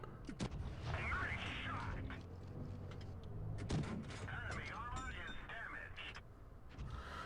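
Tank cannon fire in World of Tanks Blitz from a tier 4 British Matilda medium tank battle, several sharp booming shots spaced through the clip, heard under ongoing commentary.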